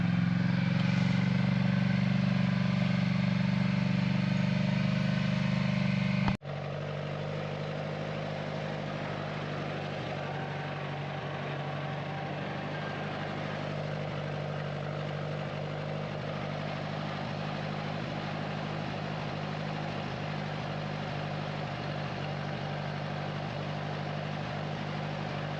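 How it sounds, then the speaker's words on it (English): A four-wheeler ATV engine runs steadily at a low, even drone throughout, close and unbroken, with a brief louder stretch at the start before settling into a constant hum. "so figured we'd let him ride the wheeler this time."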